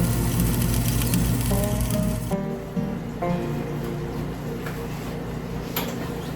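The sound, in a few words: chili simmering in a pot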